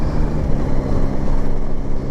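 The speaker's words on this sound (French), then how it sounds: "je passe les vitesses absolument sans toucher à l'embrayage" A Yamaha Tracer 9GT motorcycle on the road shifts up through the gears on its quick shifter without the clutch, its engine droning in a steady low hum under constant wind rush.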